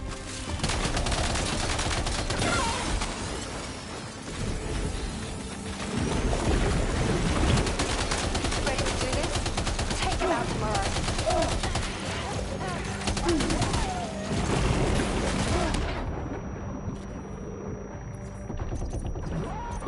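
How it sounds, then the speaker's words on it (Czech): Enemy gunfire in the video game Death Stranding 2 crackles in rapid bursts and sustained volleys under in-game chatter and noise, persisting for most of the stretch before thinning out near the end. "Střílí do mě"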